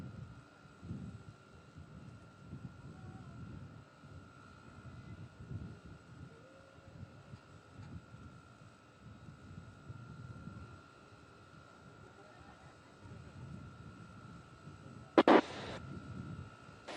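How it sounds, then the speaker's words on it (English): Aerobatic jet aircraft flying a square loop at a US Navy 250th anniversary event; a faint, distant low roar rises and fades under wind, with a short sharp burst near the end. "flying a distinct square path through the sky"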